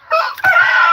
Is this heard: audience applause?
no